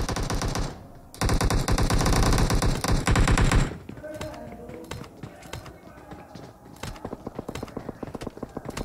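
Rapid bursts of automatic gunfire ring out in a PUBG battle royale match, loud and dense for the first few seconds, then thinning into scattered sharp shots and clicks.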